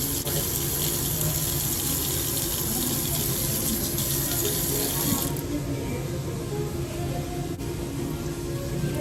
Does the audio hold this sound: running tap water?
yes